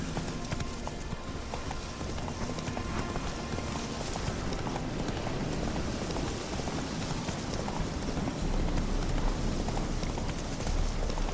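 A horse gallops steadily in Witcher 3, its clip-clop hoofbeats loud and continuous over a dense, noisy background like rain, with no talking.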